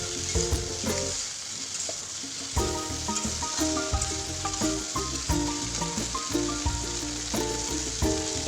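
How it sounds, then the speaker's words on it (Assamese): Okra frying in leftover oil in a pan, a steady close sizzle with spatula scrapes and stirring knocks, briefly quieter before the crackle surges back. "এতিয়া ৰৈ যোৱা তেলখিনিতে মই ভেন্দিখিনিও ভাজি ল'ম এনেদৰে"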